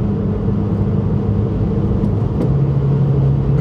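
A car with a K-Series engine and a newly fitted FA5 clutch and synchro accelerates, giving a loud, steady in-cabin engine drone that briefly breaks and then settles into a new tone.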